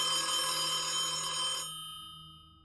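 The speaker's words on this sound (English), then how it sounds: "the phone rang." A telephone bell rings steadily for about a second and a half, then stops abruptly and leaves a short fading resonance in a quiet room.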